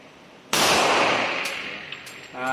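A single sharp shot from a stainless Colt Competition .45 ACP pistol with a 5-inch barrel, Series 70, cracks close and loud at a shooting range, then echoes and decays, with faint clanks after.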